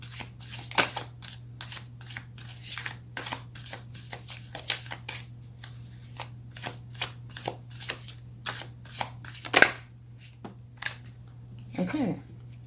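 Tarot cards being shuffled in a series of quick, crisp riffling bursts close by, with a steady low hum underneath and a few faint vocal sounds near the end.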